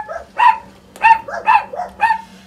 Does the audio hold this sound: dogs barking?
yes